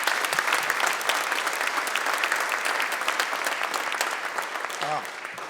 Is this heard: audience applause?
yes